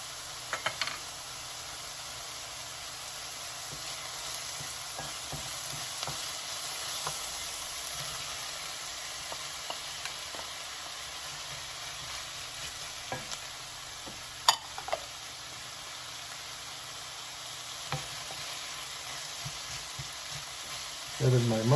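Onion sizzling and softening in a frying pan over medium heat, a faint, steady hiss with occasional soft clicks and a few brief louder knocks.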